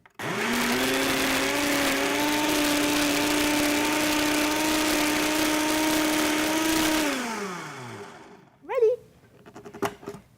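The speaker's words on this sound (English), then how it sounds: "If you want, you can use any type of blender," A kitchen blender whirs loudly and steadily for about seven seconds, then spins down and stops, followed by a couple of brief clattering knocks.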